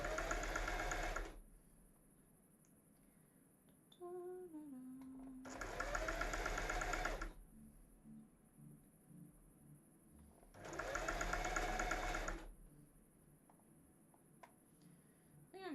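Sewing machine stitching fabric in a cosplay workshop, a steady motor whir running in three bursts of a second or two each, separated by quieter pauses with faint handling sounds and a steady background hum.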